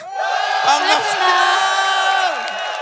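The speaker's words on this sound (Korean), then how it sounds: "아 오늘 함성 소리 남다릅니다." Soldiers of the Army 1st Armored Brigade, South Korea's first armored unit, roar and cheer together at a military entertainment event, a loud sustained crowd shout with whoops and yells carrying on for several seconds.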